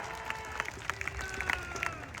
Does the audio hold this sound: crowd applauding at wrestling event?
yes